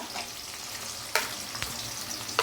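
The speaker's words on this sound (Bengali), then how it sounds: "লঙ্কা বাটা, রসুন বাটা দিয়ে এইবার আমরা মশলাটা কষিয়ে নেব" An onion, tomato and spice paste of ground chili and garlic fries in a pan with a steady sizzle, broken by a few sharp stirring scrapes and clinks.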